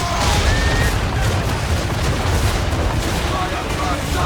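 Thunderous naval cannon broadside from a sailing warship in Assassin's Creed 3, a dense continuous rumble of overlapping blasts over roughly four seconds with shouted commands mixed in.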